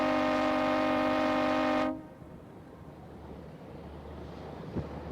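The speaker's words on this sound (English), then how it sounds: "you just heard the blowhorn" A loud, sustained boat air horn blast blares for about two seconds, then cuts off to leave wind and distant water noise outdoors.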